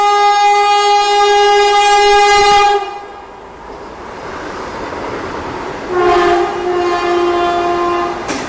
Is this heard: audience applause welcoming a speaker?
no